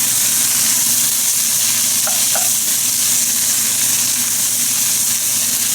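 Vegetables seasoned with salt and pepper sweat in a hot pan, a loud, dense, continuous sizzle up close with no talking and a couple of faint clicks partway through.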